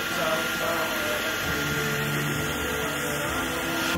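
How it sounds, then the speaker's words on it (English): A hair dryer runs steadily throughout, borrowed for a VW/Audi EA888 TSI coolant pump repair, giving a loud, continuous airy whoosh with no breaks. "I was allowed to borrow her hairdryer"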